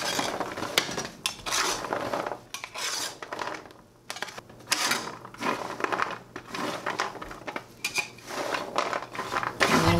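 Caramel-coated pecans scraped and stirred across a metal cookie sheet, a busy run of rasping, clattering scrapes in uneven bursts with a short pause midway, close and fairly loud.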